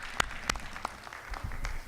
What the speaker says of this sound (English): Another round of applause for her, please.